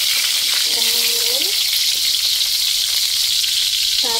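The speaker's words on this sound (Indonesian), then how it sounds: "Setelah minyak panas, goreng bawang putih, kemiri," Garlic and candlenut fry in hot oil with a steady, bright sizzle throughout. A few faint tonal squeaks or voice-like sounds rise briefly above it.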